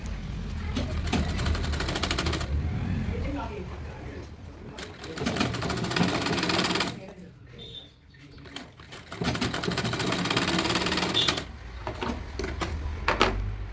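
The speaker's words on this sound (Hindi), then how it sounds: "धीरे धीरे इसकी फिनिशिंग की सिलाई लगाएंगे" A sewing machine runs steadily while stitching the finishing seam of a blouse lining, whirring in two long stretches broken by a short pause, with faint bird cooing in the background.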